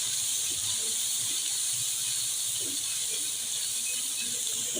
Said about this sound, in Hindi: पाँच मिनट मसालों को भूनते हैं।